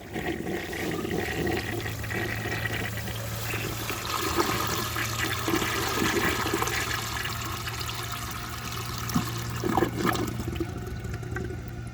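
A 1930 Eljer Sanus toilet flushes a grocery bag, a sustained rushing of water near and loud that swirls on for several seconds before tapering into trickling refill.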